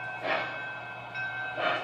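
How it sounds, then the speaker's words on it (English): A Santa Fe Atlantic 4-4-2 model steam locomotive with passenger cars rolls along its track, a steady mechanical hum with a faint tone and soft periodic chuffs swelling and fading at a close distance. "he says the train's rolling, and it's rolling very sweetly."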